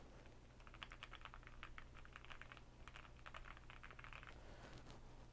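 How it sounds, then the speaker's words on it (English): Quiet typing on a computer keyboard, picked up through a basic inline earphone mic: a steady run of soft, rapid key clicks with irregular rhythm over a faint background hum. "I'm gonna go ahead and do some typing on my keyboard."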